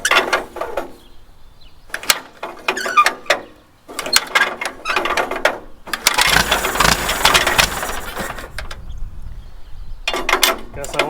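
A small farm engine with the throttle at three-quarters and the choke on cranks in several short bursts, then catches and runs roughly for a couple of seconds before dying, with a few more pull attempts after.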